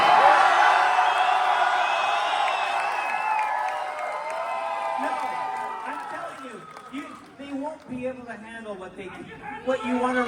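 A crowd at a WonderCon Funko panel cheers and whoops loudly at first, then the noise fades into scattered chatter and voices.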